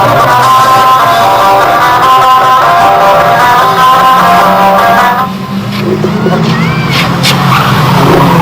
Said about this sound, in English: a big spin around there for the 81 car